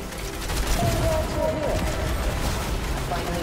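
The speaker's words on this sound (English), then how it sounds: "Ah, they're shooting the tank!" Gunfire rattles at a tank in the video game Fortnite as rapid, overlapping bursts of shots and mechanical clatter, with excited voices talking over the noise.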